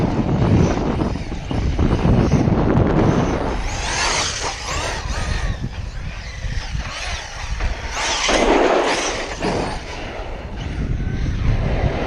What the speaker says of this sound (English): It's super windy out today.